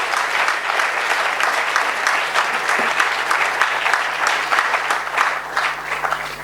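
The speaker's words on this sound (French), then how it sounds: "Est-ce qu'on peut acclamer comme il faut, s'il vous plaît?" Church congregation applauding steadily and loudly, a dense continuous wash of many hands clapping that holds for the whole stretch without letup.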